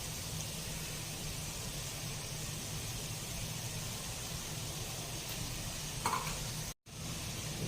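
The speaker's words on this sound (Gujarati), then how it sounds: "હવે તેમાં આપણે બાફેલા નૂડલ્સ ઉમેરી દેવાના છે" Boiled noodles stir-fried in a hot pan for veg Hakka noodles, a steady close sizzle running throughout with faint stirring scrapes and a brief dropout near the end, no talking.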